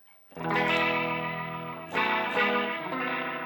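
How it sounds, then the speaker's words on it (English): Rich keyboard chords swirl through a Leslie rotary speaker effect from an H9 pedal, warbling and pulsing as new chords strike, with no voices. "My main Leslie sound."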